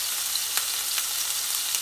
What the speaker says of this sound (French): on prend notre espadon, on l'assaisonne bien évidemment. Ici, j'ai mis un peu de fleur de sel et on le pose dans l'huile chaude